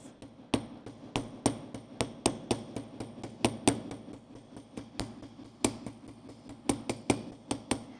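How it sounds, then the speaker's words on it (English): Rapid metallic taps of a small texturing hammer striking metal, sharp and close, in an uneven but steady rhythm with brief pauses. "if I just hammer straight down, I get a different kind of triangle"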